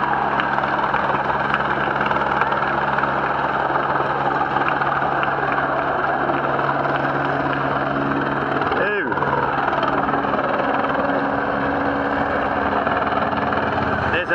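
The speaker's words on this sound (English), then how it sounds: "There's the chopper." A helicopter's rotor thrums loudly and steadily over a road cycling race, holding close overhead with a constant engine drone, and a brief dip midway before the noise resumes.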